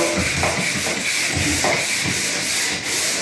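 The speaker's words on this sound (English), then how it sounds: "now I'm sanding all those little touch-ups I did." Loud, close rhythmic sanding of wall touch-ups, a sanding block rubbed back and forth in steady strokes.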